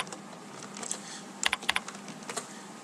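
Keystrokes on a computer keyboard, a quiet scatter of taps that bunch into a few sharper clicks midway, heard close with no talking.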